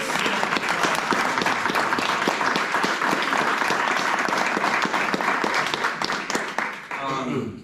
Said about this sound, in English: How about a round of applause for all of our candidates?